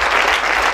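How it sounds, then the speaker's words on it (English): Dense, loud applause from a church congregation, a continuous wash of clapping filling the whole moment. "Clap hands for yourself."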